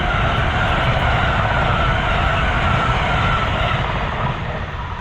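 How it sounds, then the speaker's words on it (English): A train rumbles past nearby, a loud, steady roar with clattering wheels that holds for the whole stretch, slightly easing at the end. "How many trains happens here?"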